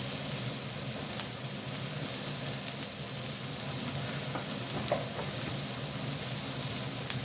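Chopped onion and green chili frying in a pan, a soft, continuous sizzle with occasional light stirring taps, heard alone without talk.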